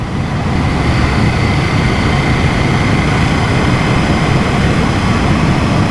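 A KTM 790 Duke motorcycle engine while riding, heard as a loud, unbroken roar mixed with rushing wind that stays steady for the whole stretch, with no talk.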